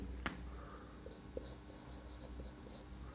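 Writing on a board with a marker or chalk during a physics lesson, faint scratchy strokes in short irregular bursts over steady room hum, with no speech.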